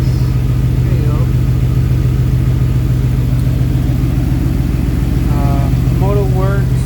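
A 2019 Mercedes-AMG GT R sits idling after a cold start, a steady low engine hum held close and constant throughout, with someone talking over it.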